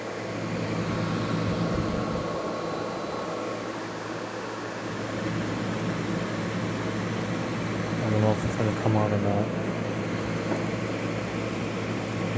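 An LG or Frigidaire window air conditioner runs in a gym, its compressor kicking on into a steady hum under broad fan noise. Brief faint clicks come near the middle.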